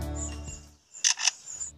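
A lyrebird imitates a camera shutter with two quick, crisp mechanical clicks close by, following a lower rumbling tone, in an otherwise quiet setting.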